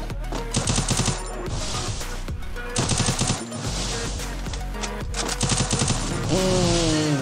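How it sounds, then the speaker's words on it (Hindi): Shotgun and automatic gunfire from a battle-royale video game rattle in loud rapid bursts, layered over game music and effects, with brief pauses between volleys. "ये लोग शॉर्ट गन अभी यूज कर रहे हैं"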